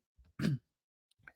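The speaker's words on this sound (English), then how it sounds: "Clear my throat there." A man's throat clearing, one short, loud burst after a faint lead-in grunt, then a quieter, brief follow-up noise about a second later, heard close up during sports-talk commentary.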